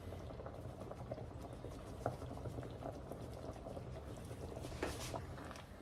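Udon soup boiling in a pot bubbles at a low, quiet simmer, with a constant soft burble and scattered small pops and patters close by.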